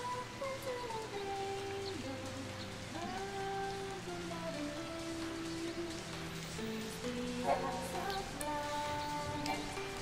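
Steady rain pours in a continuous wash in Final Fantasy XIII, with scattered drops ticking over a droning tonal background of game music.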